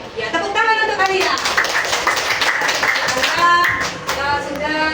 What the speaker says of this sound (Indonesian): tepuk tangan untuk Alia